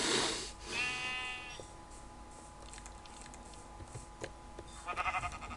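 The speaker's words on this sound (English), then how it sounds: "in this episode we will be shearing sheep" Minecraft sheep bleat in a video game, one wavering bleat near the start and another rising at the end, with soft game ambience and light taps between.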